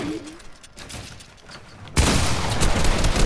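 Gunfire in the Fortnite video game: a loud, dense burst of shots breaks in near the end after quieter game noise, continuing as sustained rapid fire.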